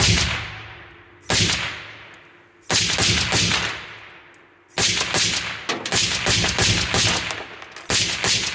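An automated rifle on a range fires in several bursts of rapid, loud, close shots separated by short pauses, each burst ringing off and decaying before the next, with no talking.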